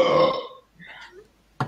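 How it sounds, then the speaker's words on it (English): A loud, drawn-out burp rumbles for about half a second right at the start, followed by faint scattered noises and a short burst of sound near the end. "Don't get any more burps."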